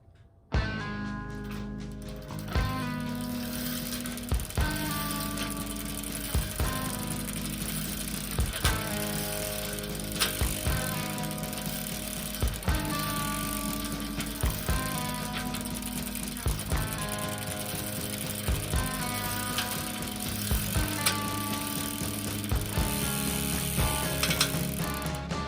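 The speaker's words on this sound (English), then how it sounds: "Let's go ahead and give the wheel a spin." A bicycle wheel fitted with a Shimano Nexus 3-speed hub spins freely, its ratcheting pawls ticking in rapid bursts that repeat at a regular pace, close and mechanical, with no speech.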